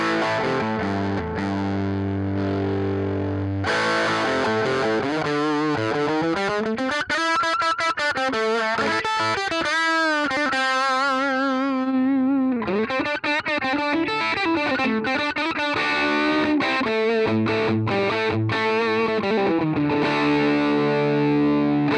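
Distorted electric guitar played through a UAFX amp pedal on its three-speaker green setting, with sustained chords, bends and quick picked runs ringing out loud and continuous with no talking.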